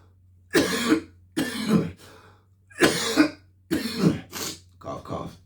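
About six harsh, breathy coughs come in quick bursts with short gaps between them, close and fairly loud over a low steady hum.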